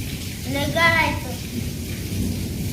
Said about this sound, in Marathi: ऐका कसलं कसं कडतंय कडकडन